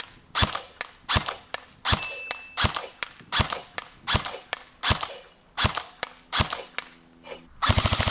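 An airsoft gun fired during a shooting test, about fifteen sharp, loud, close single shots in an uneven rhythm, each with a metallic ring, ending in a brief rapid burst.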